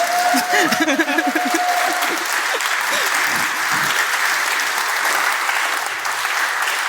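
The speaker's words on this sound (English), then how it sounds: "So I think we deserve the applause." Audience at a conference closing session breaks into loud, sustained applause with a few voices and laughs in the first seconds, the clapping continuing evenly to the end.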